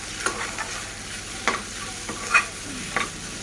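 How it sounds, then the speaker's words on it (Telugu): Carrot and egg fenugreek rice is stirred and mixed in a hot pan, with soft scrapes and taps of the spoon over a steady low sizzle, close by. "ఇలా బాగా కలుపుకోవాలి."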